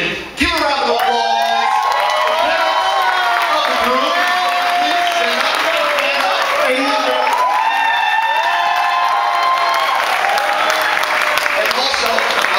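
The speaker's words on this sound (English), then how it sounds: "Give a round of applause." Wedding guests clap and cheer for the parents of the bride and groom, sustained applause with whoops and shouts, voices rising through the crowd for several seconds.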